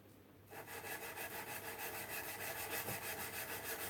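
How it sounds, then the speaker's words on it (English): Sandpaper rubbed by hand back and forth over a piece of steel, a steady rhythmic rasping with quick even strokes that starts abruptly and continues close and continuous. "the tedium of rubbing a piece of sandpaper back and forth over a piece of steel"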